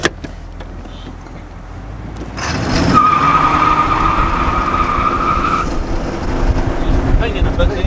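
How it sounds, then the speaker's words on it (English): A 1967 Oldsmobile 442 convertible launches hard from a stop in first gear, engine surging loudly with a sustained tire squeal, then a roaring pull. "Bring it to a stop, drop it in first, and slam it and see what happens."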